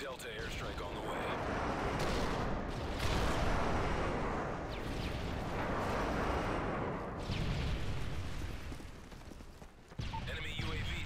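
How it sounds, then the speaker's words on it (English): Airstrike explosions boom and rumble in Call of Duty Modern Warfare 3 multiplayer, a dense run of blasts and crackling impacts mixed with game voice callouts. "Delta airstrike on the way."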